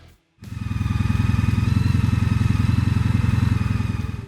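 A Honda CTX 1300 motorcycle engine idles steadily and close by with a deep, even rumble and rapid pulsing beat, starting after a brief moment of quiet.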